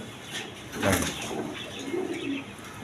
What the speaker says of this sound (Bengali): একদম ছটপড়া কবুতর